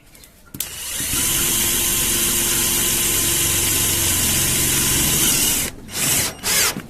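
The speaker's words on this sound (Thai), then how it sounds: "ปรับสปีดสว่าน ให้เป็นสว่านวิ่งเร็วนะครับ" A cordless drill runs in one long, loud, steady whine at high speed as it drives a roofing screw into wood, then stops and gives a few quick short bursts.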